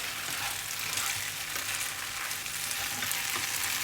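Noodles for char kway teow fry in a hot pan while chopsticks pull them apart, a loud, steady hiss of sizzling oil running throughout, up close and without any talk.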